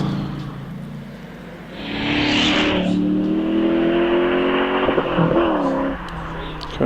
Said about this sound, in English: So Mark Everett then in the TVR Griffith.